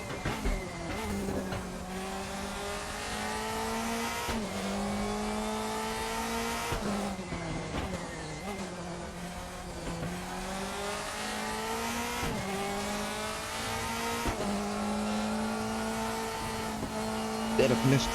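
Mercedes 2005 DTM race car lapping the Nordschleife in a racing video game, its engine screaming and revving hard with repeated gear shifts, lifts and braking, tires squealing at times, a loud continuous run with some talk underneath.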